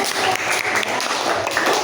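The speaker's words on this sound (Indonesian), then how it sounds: "tepuk tangan untuk kelompok satu" Classroom applause for a student group, a brief burst of many hands clapping together at moderate loudness, steady and unbroken over its short span.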